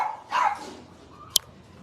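A single dog at a south Texas dog rescue gives a short bark or yip, followed by a faint sharp click, in a quiet room.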